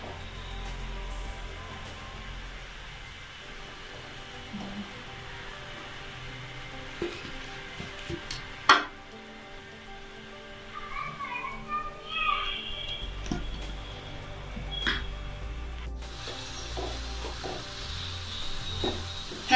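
Mysore bonda made from maida and urad dal fry in oil over a low flame, giving a faint, steady sizzle with scattered pops and clicks, and someone talks nearby.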